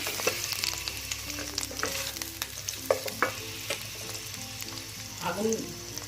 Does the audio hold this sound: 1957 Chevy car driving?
no